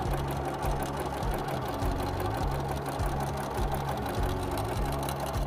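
A sewing machine stitches a fabric seam, its needle hammering in a steady fast rhythm with a low motor hum, pausing briefly every second or so as the seam is fed through.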